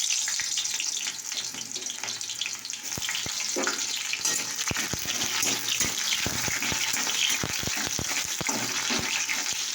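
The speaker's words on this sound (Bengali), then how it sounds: "দেখতে পাচ্ছ তো তেল গরম হয়ে গেছে। তো চলো পেঁয়াজটা দিয়ে দিই।" Chopped onion fries in hot oil alongside a pan of vegetables, producing a loud dense hiss with scattered crackles and pops, close and continuous, with no talk.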